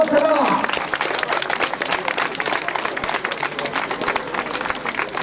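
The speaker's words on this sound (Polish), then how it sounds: "Zatem Juri Bochowiak, Ukraina, gorące brawa." A sports event audience claps enthusiastically for a runner, a burst of dense applause that continues steadily with a loudspeaker voice talking over it.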